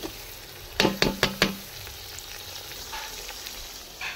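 Browned onions frying in a pan as ginger-garlic paste goes in, for chicken biryani; a steady sizzle runs throughout, with four sharp knocks of a spoon against the pan near the start.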